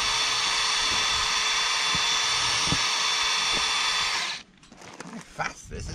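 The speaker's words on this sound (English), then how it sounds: "We're just going to drill some holes and half an inch from the bottom" A power drill whines loudly and steadily as it bores holes during boat preparations, with faint knocks under the drone, then stops abruptly, leaving quiet shuffling and handling noises.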